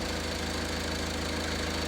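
A car engine idling just after an oil change, a steady low mechanical rumble with a fast even pulse, continuous and fairly close with no voices.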